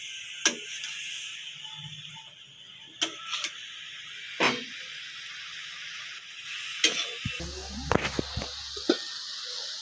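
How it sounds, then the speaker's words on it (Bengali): Food seasoned with salt and a little turmeric stirred in a pan, giving a steady faint sizzle broken by sharp scraping clinks of a spoon against the metal and a brief rattling clatter near the end, with no talk. "এবার এটাকে আমি নাড়িয়ে চাড়িয়ে একটু ঢাকা দিয়ে দেবো।"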